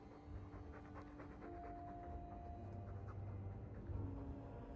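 A Mabari war dog in Dragon Age 2 pants in quick, steady breaths, close and fairly soft, over a low background rumble, with no talking.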